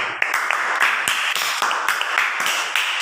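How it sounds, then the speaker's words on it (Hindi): Applause for a child at a school event, a modest group clapping in a close, lively rhythm with a few sharper individual claps standing out. "इस बच्चे के लिए ताली होनी चाहिए"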